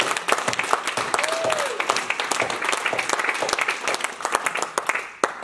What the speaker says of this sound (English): come on, round of applause, man.